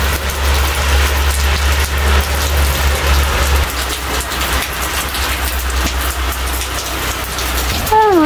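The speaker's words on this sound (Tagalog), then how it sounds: "malakas na naman yung ulan" Heavy rain pours steadily in a dense, continuous hiss, loud and close, with a low rumbling hum underneath and a brief voice at the very end.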